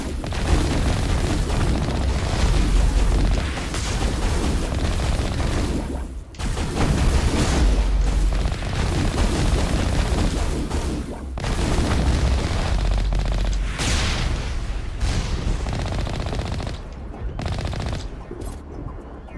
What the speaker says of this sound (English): All these rockets here, my goodness.